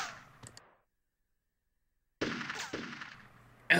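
Gunfire in the PlayStation game Army Men Sarge's Heroes, a short burst of shots, then a silent gap, then a louder rapid volley of close shots with a final sharp report.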